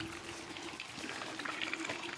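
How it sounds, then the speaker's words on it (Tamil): Water pours into a cooking pot for rice being prepared for chicken biryani, a steady close splashing and trickling flow that continues throughout. "தண்ணி ஊற்றி அரிசி போட்டுரு"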